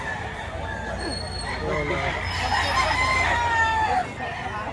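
Roosters crow and chickens cluck amid a busy chicken market in Batangas, with a steady crowd murmur and voices talking underneath.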